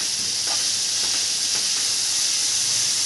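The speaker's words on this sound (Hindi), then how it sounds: "और फिर अच्छे से स्लो फ्लेम करके सेकेंगे।" Onion masala roasting in a pan over a low flame gives a continuous bright sizzle and hiss, close and steady, with faint stirring scrapes.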